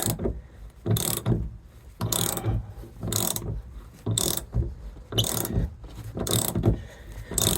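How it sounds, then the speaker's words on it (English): A 1/2-inch ratchet works loose a stuck nut on a Ford Excursion roof, giving bursts of clicking pawl ratcheting in a regular back-and-forth rhythm about once a second, close and loud, with no talk. "I'm using a 1/2-inch ratchet instead of the breaker bar, but it's coming"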